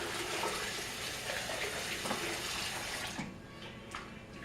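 Cool water runs steadily from a tap while a synthetic wig is washed, a dense close splashing rush that thins slightly toward the end.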